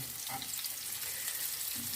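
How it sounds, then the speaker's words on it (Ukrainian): Cheese toasts fry in a pan, giving a continuous soft sizzle and crackle at moderate level with occasional low scraping touches, and no voices. "це у нас обжарюється четверта сковорідка"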